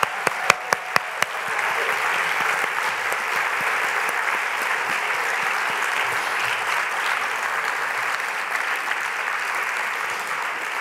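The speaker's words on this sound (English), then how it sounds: "Please continue your applause for Group 4," Sustained applause from a National Book Awards reading audience for the fiction readers, opening with a few sharp individual claps before settling into a full, even wash of crowd clapping that continues throughout.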